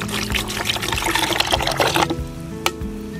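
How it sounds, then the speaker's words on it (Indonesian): Rice washing water pours into a bucket in a steady splashing stream that then thins to a trickle, loud and close, with no talking. "yang pertama kita masukkan air cucian beras ini ke dalam ember"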